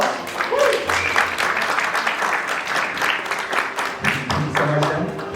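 An audience at a magic show applauds a volunteer coming on stage, a dense burst of clapping from a room full of people that fades toward the end, with a voice speaking over it.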